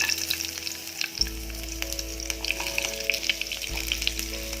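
Chili peppers hit hot cooking oil in a pan for sweet and spicy chicken wings, giving a steady, close sizzle and crackle with occasional stirring.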